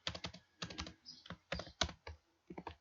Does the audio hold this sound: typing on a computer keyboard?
yes